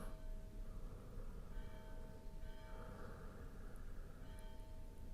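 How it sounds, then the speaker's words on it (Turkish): A church bell rings in the distance, its steady tones sustained over a constant low background hum. "Şu an benim mahallemde kilise çanı çalıyor."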